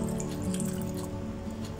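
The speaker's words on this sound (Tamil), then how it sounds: "இது கூட வந்து நம்ம 1/2 கப் அளவுக்கு பால் சேர்க்க போகிறோம்." Milk, about half a cup, is poured into a whipped tea cake batter, making a steady close liquid pour with a faint trickling texture throughout.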